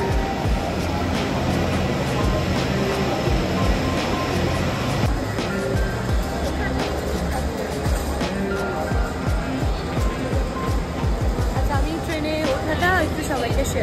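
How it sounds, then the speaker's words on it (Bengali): Shatabdi Express train at Howrah station, a steady broadband rumble and hum of the train and station around it, with a background babble of people throughout. "আমরা শতাব্দী এক্সপ্রেসে যাচ্ছি।"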